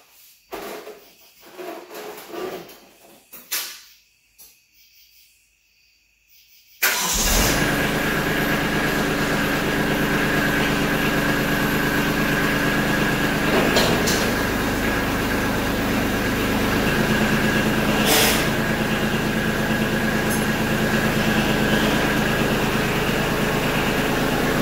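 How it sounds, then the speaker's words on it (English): A few seconds of clatter and bumps give way to a tractor engine starting and then running steadily at close range, a loud continuous rumble with occasional clanks as the tractor is driven back into a garage. "I'm going to move the tractor back into the back of the garage"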